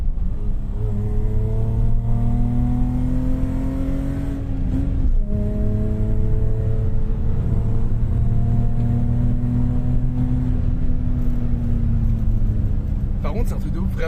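A BMW 325i E30's engine pulls hard while driving, a steady rising drone that climbs in pitch through gears with a brief dip near five seconds, held loud and close throughout with someone talking over it.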